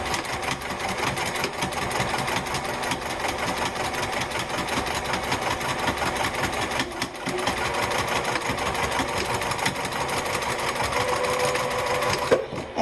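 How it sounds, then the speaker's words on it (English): A sewing machine runs steadily and close up, stitching down a fold on a fabric wallet at a 3/8 inch seam allowance, a continuous rapid mechanical whir lasting throughout with only a brief slowdown partway. "I'm going to stitch down the distance of that fold."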